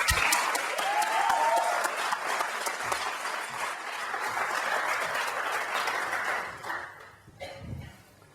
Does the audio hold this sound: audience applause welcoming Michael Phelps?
yes